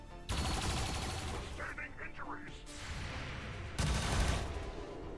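Gunfire in the video game XCOM 2 comes as loud bursts of rapid shots with booming impacts that break off and start again, and a voice talks over parts of it.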